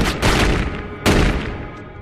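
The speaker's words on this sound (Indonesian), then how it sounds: "Di sini mereka terpaksa menembak Jojo hingga tewas karena jamet ini melakukan perlawanan." Gunfire in a film scene as agents shoot a man named Jojo: two loud, close bursts of shots about a second apart, each trailing off quickly.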